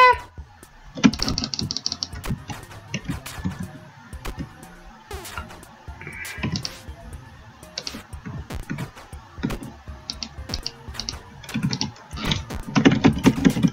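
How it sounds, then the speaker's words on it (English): Computer keyboard keys hammered rapidly during a game of The Escapists, dense bursts of close clattering taps in irregular flurries, with short pauses and some faint game sounds underneath. "sorry if you hear a lot of spamming of the keys right now"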